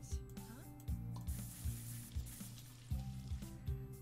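A salon video game plays a soft spray-tan hiss with fizzing bursts, laid over looping game music with repeated plucky thumps, faint and electronic.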